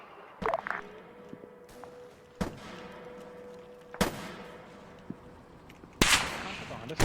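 Gunfire in an Arma 3 firefight at a pumping station: several sharp shots spread across the stretch, with a loud burst near the end, over a low steady hum and faint background noise.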